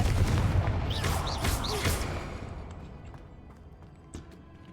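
Confringo blasting spell in Hogwarts Legacy: a loud booming explosion with rumbling low end and crackling bursts in the first two seconds, decaying into a fading rumble with a faint later thud.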